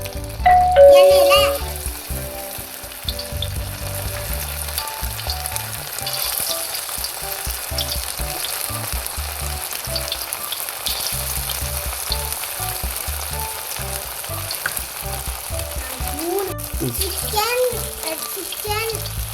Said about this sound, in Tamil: வாங்க ஃப்ரை பண்ணி எடுக்கலாம்